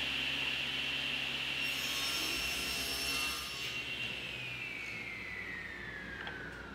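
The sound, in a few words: table saw ripping strips of 3/4 inch plywood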